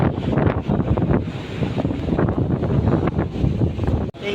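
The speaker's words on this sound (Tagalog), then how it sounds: "Mahangin, maulan." Steady, blustery wind buffets the microphone on the open deck of the Diamond Princess cruise ship near the food area on a rainy day, a constant rough roar with no speech.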